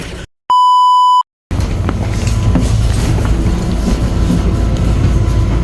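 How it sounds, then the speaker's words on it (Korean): After a short electronic test-tone beep, a train approaches a Korean railway station with a loud, steady rumble and rail noise that fills the rest of the passage. "기차 오기까지 기다리도록 하겠습니다."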